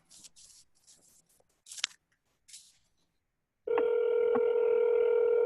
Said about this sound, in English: You guys hear that ringing?